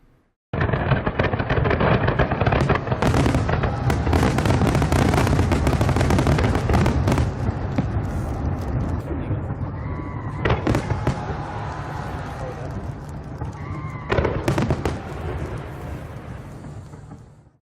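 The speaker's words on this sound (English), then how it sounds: "we were treated to the biggest fireworks display we had ever seen" A large fireworks display in Pyongyang, held for Kim Jong-il's birthday, sends up a dense, continuous barrage of crackling bursts and booms, loud and close, thinning slightly toward the end with a few separate louder bangs.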